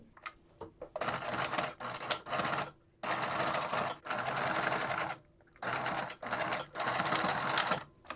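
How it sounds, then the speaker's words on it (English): A sewing machine stitches a fabric face mask in close, fast whirring runs of about a second or two each. Short quiet pauses separate the runs, and the mechanism clicks faintly between them. "do the other side again and sew it down"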